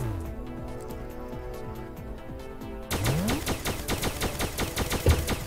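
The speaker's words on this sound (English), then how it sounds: "Oh, I hear gunshots." Rapid gunfire in the video game Starbound, a fast string of sharp shots that starts partway through and repeats in a quick rhythm over game music.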